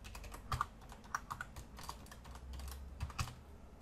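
Someone types a password on a computer keyboard, a quiet, close run of uneven key clicks and taps lasting a few seconds, with no talking.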